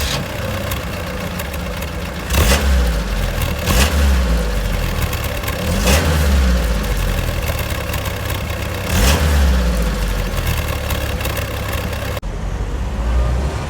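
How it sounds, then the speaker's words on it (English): A 1970s Vauxhall Victor FE Estate engine running and pulling away, a mid-pitched engine drone with several revving surges and gear changes, close and fairly loud throughout. "Right, let's take it out for a drive and see how it performs."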